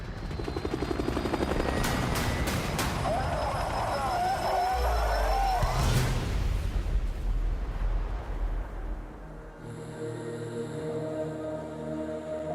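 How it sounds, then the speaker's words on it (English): A military helicopter in the Vietnam-era first-person shooter Hell Let Loose thunders with loud rotor thrum and engine roar, mixed with distant gunfire and explosions; near the end the noise gives way to a sustained musical tone, and a voice is heard. "Now you can really ride on the last chopper out of fucking Vietnam."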